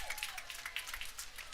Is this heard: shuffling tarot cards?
no